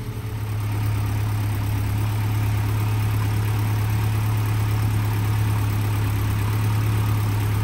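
A Land Rover Series petrol engine, freshly given a valve overhaul with new valve stem seals, idles steadily and evenly close by, a smooth low hum with no voices over it.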